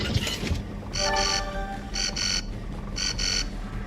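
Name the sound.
alarm sounding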